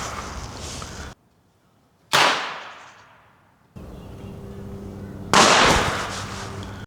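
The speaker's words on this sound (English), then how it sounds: "We also have these firecrackers, and we're about to use these right now to do the same test." Firecrackers bang sharply in an outdoor amphitheater, two separate loud cracks each trailing into a long echoing decay, with steady background noise between them.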